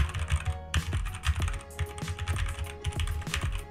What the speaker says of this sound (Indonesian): Jadi suara yang dihasilkan dari keyboardnya ya.